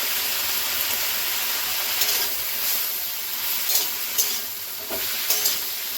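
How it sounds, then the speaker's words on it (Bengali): Gourd stalks and potatoes with salt and turmeric fry in a pan, giving a steady loud sizzle and hiss with occasional stirring scrapes and no talk. "ডাঁটা আর আলু কিছুক্ষণ ভেজে নেব।"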